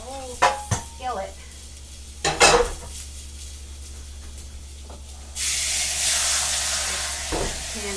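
A skillet clatters on a stove with several sharp metallic knocks, then a steady loud sizzling hiss rises and holds, with another clank near the end; no talking.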